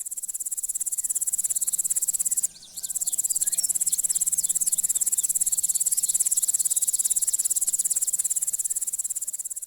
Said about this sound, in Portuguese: Este é o som de um gafanhoto.